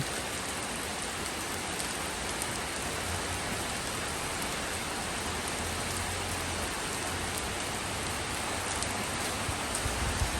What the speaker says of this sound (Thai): เพราะว่าฝนแรงนะคะ ฝนแรง